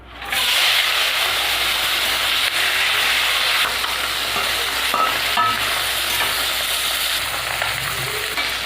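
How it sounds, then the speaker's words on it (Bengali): Steady, loud sizzling of fish frying in oil in a kadai, with a constant hiss throughout, broken by occasional faint clinks and scrapes. "কড়াইতে তেল দিয়ে দেবো এবার মাছ ভেজে নেব"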